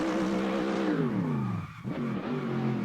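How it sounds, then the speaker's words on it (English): A BMW M3 E90 drift car in Assetto Corsa, its engine revving in rising and falling sweeps with tire squeal, close and loud, dipping briefly midway before climbing again. "This is this BMW M3 E90"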